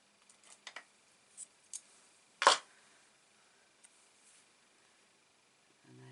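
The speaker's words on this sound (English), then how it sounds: "So I'm going to use a little bit of tape, as I do always. With my scissors." Scissors make a few small snips and clicks while cutting a short strip of tape for a card-making project, followed by one sharper, louder cut, all quiet and close in otherwise near silence.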